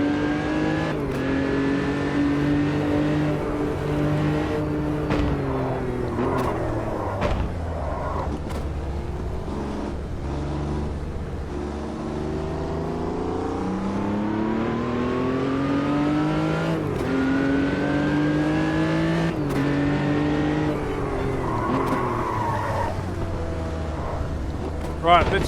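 A race car engine in the sim racing game Automobilista 2 drones steadily at moderate speed during a slow tyre-warming run, its pitch rising and falling through gear changes and corners, close and continuous with faint wind noise.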